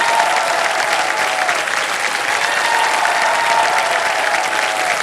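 A studio audience applauds on the KBC quiz show set, a loud, dense wash of many hands clapping continuously without a break, steady from start to finish.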